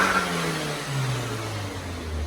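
An Audi A4 B7 engine revving up into boost, a steady mid-pitched drone with a rising whine, heard from inside the car at fairly loud level.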